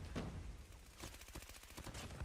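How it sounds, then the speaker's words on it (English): Gunfight in the mobile game Call of Duty Mobile during a world championship match, with dense rapid automatic gunfire bursts and overlapping shots in a continuous busy clatter. "And the gunfight here, Lone still takes that here."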